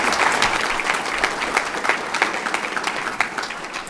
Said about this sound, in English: That is worth applause.